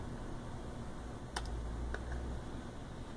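Two brief key presses on a Dell Inspiron 14 laptop keyboard, Enter and then F10, sound as sharp, close clicks roughly half a second apart over a steady low hum.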